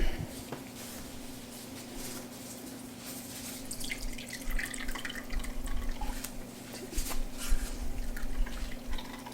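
Liquid being drained from ground gyro meat, a quiet trickle with drips and wet splashing, steady and close, over a low background hum.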